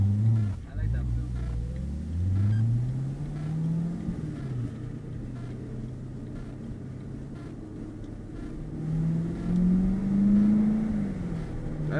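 C7 Corvette Grand Sport V8 engine droning while driving, a low steady rumble rising and falling with throttle, with voices talking over it inside the cabin.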